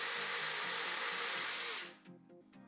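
A power drill runs steadily while burnishing a stripped screw head, a loud continuous whir that cuts off near the end and leaves a few faint knocks.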